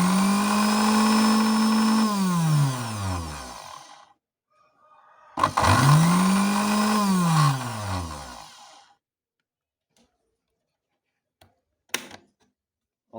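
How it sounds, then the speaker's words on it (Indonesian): An electric blender motor with a dinamo that had been throwing sparks, repaired, whirs loudly in two separate runs, each spinning up to a steady high whine and then winding down, followed by silence and a few faint clicks. "tutorial tentang cara mengatasi dinamo blender yang keluar api"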